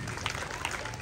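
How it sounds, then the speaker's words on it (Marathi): Brief burst of audience clapping for a woman at a Bhim Jayanti Home Minister Paithani game show in Bopkhel, dense crowd applause with voices mixed in underneath. "टाळ्या वाजवा वहिनींसाठी."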